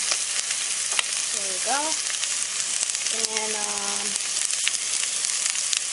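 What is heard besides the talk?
onions and shallots sizzling while frying for chicken sauce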